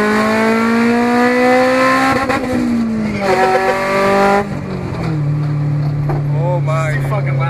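A 1999 Honda Civic with an open header drives by loudly, its engine note holding and climbing through gears close by, then easing to a steady drone while voices shout faintly in the background.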